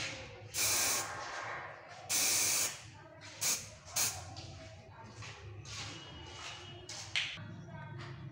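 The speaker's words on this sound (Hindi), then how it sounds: "10 से 15 सेंटीमीटर दूर से आपको स्प्रे करना है" Spray paint hisses from a can onto a car scratch in short bursts, some loud and sharp, others softer and brief, with handling noises between sprays.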